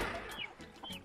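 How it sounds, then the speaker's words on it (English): Backyard chickens cluck during morning chores after getting loose from their coop, a couple of short, close clucks and squawks over a brief moment with no talking. "let me close it up before anybody else, any other chicken come out"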